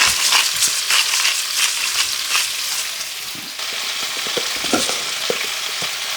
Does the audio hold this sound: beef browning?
yes